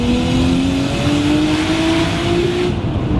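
A Nissan R32 Skyline's engine revs hard and holds a loud, close, rising scream for a few seconds before dropping off abruptly, with no talking.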